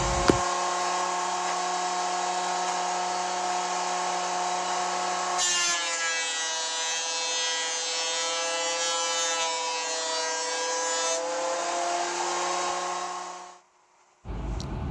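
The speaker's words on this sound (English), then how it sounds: "Now I'll send the top boards through the thickness planer just to even everything out." A thickness planer runs steadily and loudly as top boards are fed through it. The tone shifts as a board enters the cutter, and the machine winds down briefly near the end.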